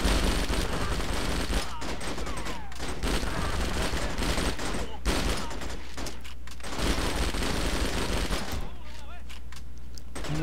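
Rapid gunfire bursts and fusillades crackle through a WheelMan video game fight, dense and loud over a continuous game soundscape, with a player's voice talking at times.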